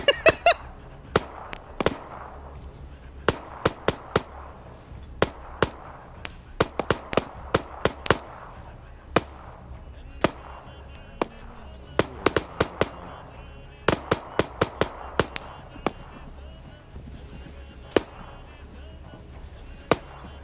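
In a military shooter game, grenade machine gun rounds explode in sharp, irregular bursts, some clustered in quick runs and others spaced apart, over a quiet background.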